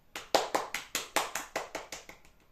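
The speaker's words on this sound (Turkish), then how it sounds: "Alkış." About eleven crisp hand claps sound close by in an even rhythm, softening toward the end.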